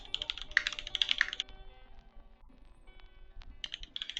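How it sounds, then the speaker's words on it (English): Fast typing on a gasket-mount mechanical keyboard fitted with 55-gram creamy switches gives dense, crisp clacks in two bursts separated by a pause, close and clear with no talking. "Let me do a quick typing test here."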